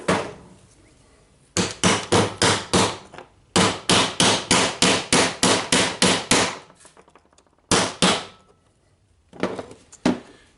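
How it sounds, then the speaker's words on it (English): Sharp metallic hammer blows drive a ball bearing onto the armature of a Makita 9565CVR corded angle grinder, striking the outer ring in fast, evenly spaced bursts of about four to eight hits with short pauses between, close and loud. "Just when hammering, make sure that you're hammering to the outer ring of the ball bearing."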